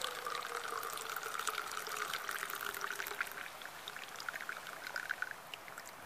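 Coffee pours through a Sawyer Mini water filter in a steady, continuous trickle of liquid lasting several seconds, fairly faint, with no talking.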